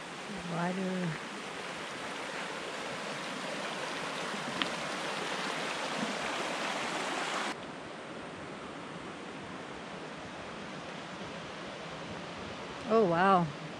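Stream of water flowing beside the Colorado Trail, a steady broadband rush that stays constant throughout, with brief speech at the start and end.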